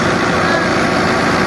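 A New Holland Fiat 640 tractor engine runs at a steady throb during threshing, a continuous loud near rumble with no break, a voice faintly underneath.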